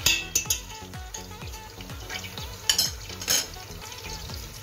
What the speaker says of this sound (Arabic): غندير السمينه ونخليها تقلى